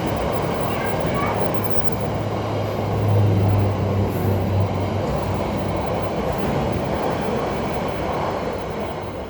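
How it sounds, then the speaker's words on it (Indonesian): A train rumbles past at close range with a steady low roar, swelling briefly in the middle and then easing off, with no talk over it. "Sebentar ya, ada kereta."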